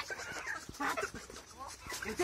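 A farm duck guarding the henhouse gives loud, close calls in short repeated bursts, with rustling and scuffling around it and no clear talk.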